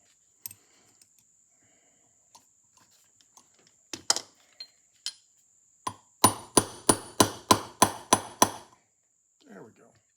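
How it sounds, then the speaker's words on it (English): A brass punch is struck repeatedly against the speed control yoke of an Amberola A-1 phonograph, starting with a few scattered light taps and building to a fast, even run of about nine sharp, close metallic hits, with no talk. "Using the brass punch, we're not going to mar anything"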